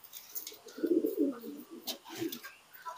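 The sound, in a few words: Lahore pigeon cooing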